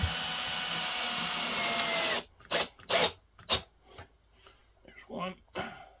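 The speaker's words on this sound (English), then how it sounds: "we'll screw these down in" A power drill drives screws to fasten new legs onto an old cedar chest, a steady close whirring for about two seconds, followed by short bursts of voice over a quiet room.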